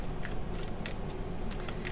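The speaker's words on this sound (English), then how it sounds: "I'm going to take a look at the cards, feel the energies while I'm shuffling the tarot." Tarot cards are shuffled in quick, close riffling bursts, several crisp papery flicks in an uneven rhythm over a soft background, with no voice.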